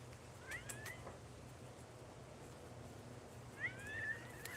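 Faint meows from a cat indoors, two short calls spaced a few seconds apart over a low steady background noise, with no talking.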